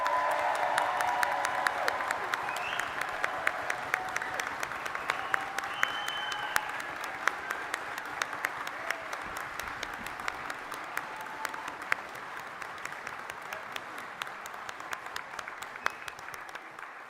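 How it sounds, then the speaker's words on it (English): Graduates at a Fife College graduation ceremony applauding and cheering, a long crowd of clapping with scattered whoops and shouts, steady throughout and gradually tapering. "Give yourself a huge round of applause"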